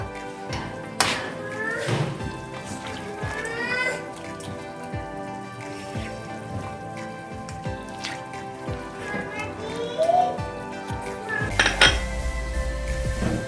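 Chicken karahi being dished out with metal utensils, clinks and scrapes of spoons against pots and plates over a steady sizzling background, close and fairly busy.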